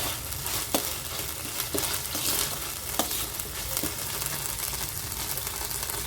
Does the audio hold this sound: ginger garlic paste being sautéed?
yes